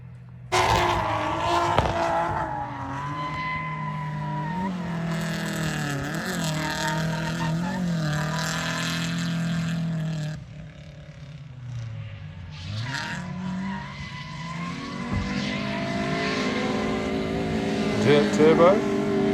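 A car laps a race track on a track test day. Its engine note climbs and falls steadily through gear changes and revs, loud and continuous throughout, while a person speaks over it.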